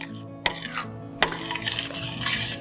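A spoon stirs white cheddar cheese sauce in a pot, with two sharp clinks of metal against the pot's side over soft, thick scraping and swirling.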